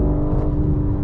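Fast car pulling hard through the gears, a loud continuous engine roar with steady whine, close and alone with no talk.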